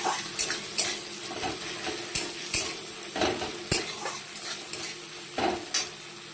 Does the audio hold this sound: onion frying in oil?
yes